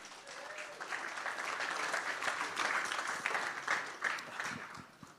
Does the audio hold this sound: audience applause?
yes